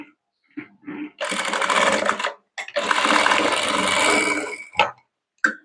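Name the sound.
sewing machine stitching a kurti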